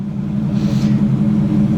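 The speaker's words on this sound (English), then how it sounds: "It's got some Flowmaster, so it's got a little sound." A 1948 Chevrolet COE truck's V-8 with a Flowmaster exhaust idles with a deep, steady, close rumble, holding even for the whole short stretch.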